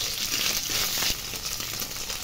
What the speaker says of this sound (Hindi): अभी हम लोग पनीर इसमें गर्म ऑयल में ऐड कर देंगे और थोड़ा पनीर को फ्राई कर लेंगे।